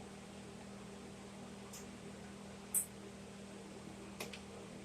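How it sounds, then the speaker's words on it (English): A range hood fan runs over a stove in a hot home kitchen, a steady, even whir holding throughout with a couple of brief clicks and a faint clink on top. "I've got the fan on over the stove because it's hot in this kitchen"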